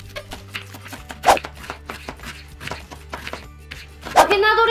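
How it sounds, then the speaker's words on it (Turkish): Lettuce being chopped into small pieces with a knife on a cutting board, a quick run of close, crisp knife taps in an irregular rhythm, with people talking over it. "Marulları ufak ufak doğra"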